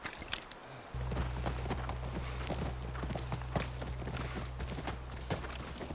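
Horse hooves clip-clop in a steady walking rhythm in the PC video game The Last of Us, close and moderately loud over a low droning music bed that starts after the first second.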